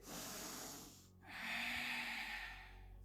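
Long, deep inhale drawn through the nose during a yoga breathing exercise, a brief pause and then a second steady breath, close and quiet with no talking.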